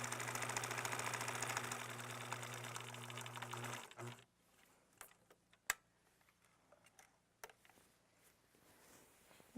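A sewing machine stitching a pillowcase seam, a loud steady whirring run for about four seconds, then it stops, leaving scattered soft clicks and fabric handling.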